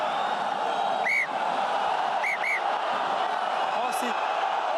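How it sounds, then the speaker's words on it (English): A rugby stadium crowd at a Castres versus Toulon Top 14 match keeps up a dense, continuous roar of displeasure, with whistles cutting through at intervals and a commentator talking over it. "the crowd don't like it"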